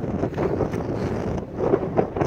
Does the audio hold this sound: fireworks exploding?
no